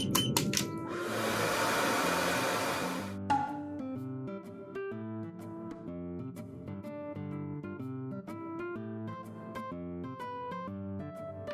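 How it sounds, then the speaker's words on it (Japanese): A hair dryer blows on freshly washed hair in a steady, loud whoosh for about two seconds near the start. It then stops, and light music with plucked notes carries on alone. "髪がいい感じに乾いたのでドライヤーします。"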